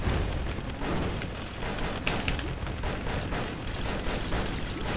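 In the video game Risk of Rain, a magma worm boss blows apart in a loud, sustained roar of rumbling blasts and crackling bursts that fills the whole stretch.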